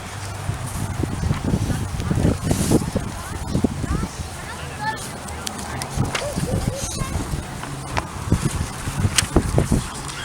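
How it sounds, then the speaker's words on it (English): Gusty wind buffets the microphone outdoors in Detroit, a low rumbling roar under people talking and moving about. "Little windy."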